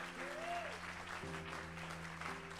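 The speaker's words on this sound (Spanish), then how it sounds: "Vamos, dale tu mejor aplauso si tú tienes la unción del Señor." Church congregation applauding together at a worship service, a steady dense wash of clapping that holds loud and even throughout, with a sustained keyboard chord playing underneath.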